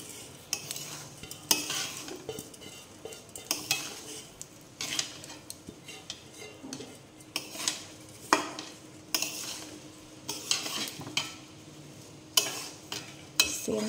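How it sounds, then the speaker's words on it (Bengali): Rice stir-fried with cooked-down spices in a kadai for ilish pulao: repeated scraping and clinking of a spatula against the pan over a soft sizzle, in an irregular stirring rhythm. "এখন চালগুলো দিয়ে কিছুক্ষণ ভাজা ভাজা করে নেব।"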